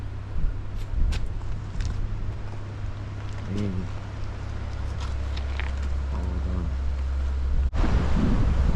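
Strong wind buffets the microphone on a foggy, drizzly creek off-road trail, a steady close roar with low rumble throughout and a brief dip near the end.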